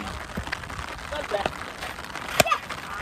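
Heavy rain pours steadily as children play cricket outdoors in it, a constant broadband wash with a few sharper drop and splash hits, while voices talk faintly underneath.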